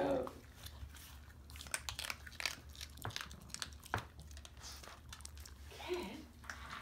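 A cub chewing and crunching on food close up, with irregular wet biting and crinkling sounds spread through the clip and light background noise.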